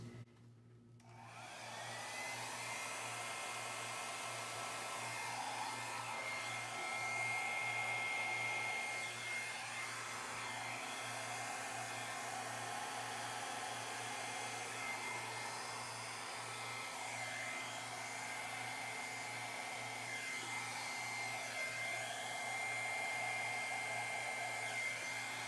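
A hair dryer blows steadily on acrylic paint during a Dutch pour, switching on abruptly and then roaring in a constant, close, loud whir with a low motor hum, its pitch wavering slightly as the airflow shifts.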